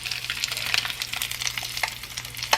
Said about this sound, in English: Now let me flip the vegan sausage.